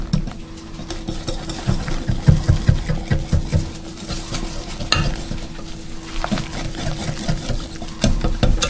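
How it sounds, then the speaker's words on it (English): A whisk beats egg, milk and flour into pancake batter in a bowl, a fast steady rattling and scraping that runs continuously with brief pauses, close and fairly loud, with no talk over it. "Give that a whisk."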